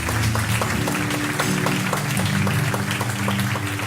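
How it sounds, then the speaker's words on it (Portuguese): A church congregation claps in praise to the Lord, a dense steady wash of many hands lasting throughout at a loud, even level, with a low sustained tone underneath. "As palmas louvam ao Senhor."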